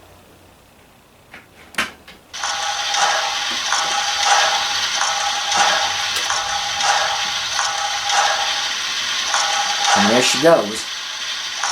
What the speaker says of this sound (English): She's making the sounds she makes when she's sitting idle, like all steam engines do.